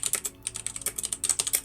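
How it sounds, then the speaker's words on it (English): Rapid computer-keyboard typing, a steady run of crisp clicks and key taps at close range with brief pauses, heard alone with no voices over it. "Starts typing."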